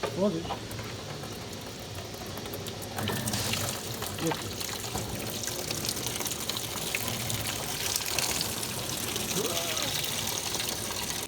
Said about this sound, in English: now with the water draining